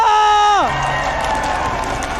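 Crowd in an MPL ID Season 11 esports arena cheering and clapping after a short descending electronic sweep, a broad, fairly loud roar that holds steady to the end.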